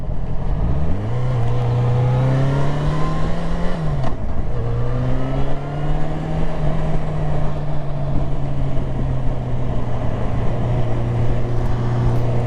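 Car on a driving test accelerating up to 50, the engine note rising steadily, easing briefly at a gear change, then droning on at a steady pitch under broad road and wind noise, close and continuous.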